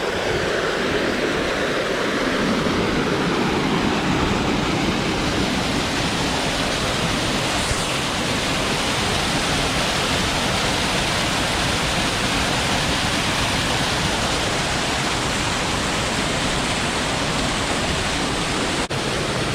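A waterfall on the Turkey Path Trail in the Pennsylvania Grand Canyon roars in a dense, continuous broadband rush, loud and close, growing fuller after the first couple of seconds and holding steady.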